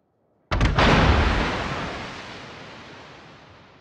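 A single heavy cruiser gun salvo from a World of Warships battle, a sudden loud blast that cracks out after a brief silence and then rolls away in a long, slowly fading rumble.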